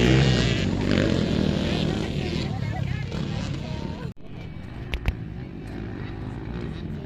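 Suzuki Yoshimura motocross motorcycles race at a Riyadh track, their engines droning loudly at a distance under a crowd's cheering and chatter before the noise drops off suddenly, leaving quieter ambience with a few sharp clicks.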